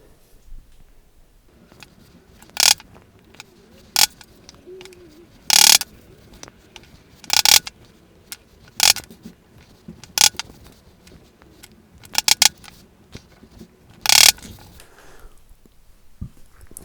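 Sharp, isolated taps sound as position markers are knocked into a Precision Bass fingerboard, about a dozen crisp knocks spaced irregularly over a quiet background with no speech.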